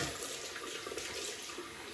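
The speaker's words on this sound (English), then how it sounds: "Cold water rinse." Cold water running steadily from a tap for a rinse after shaving, a constant, fairly quiet hiss of flowing water with no breaks, heard alone.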